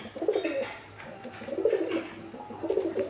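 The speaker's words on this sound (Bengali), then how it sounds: "এখানে পাঁচখানা পায়রা দেখতে পাচ্ছেন" Pigeons coo in three repeated low, rolling phrases, close and fairly soft, evenly spaced.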